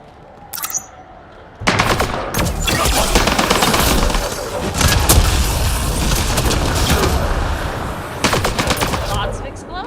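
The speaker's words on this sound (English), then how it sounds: "Lots of explosions." Sustained rapid gunfire and explosions erupt in the video game Mass Effect Andromeda after a brief quieter start, loud and dense, with a voice briefly audible beneath the battle noise.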